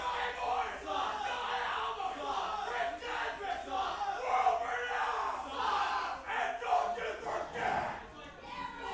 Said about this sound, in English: The crowd letting World Renowned know what they think of him.